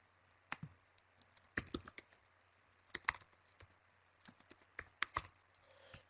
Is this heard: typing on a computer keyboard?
yes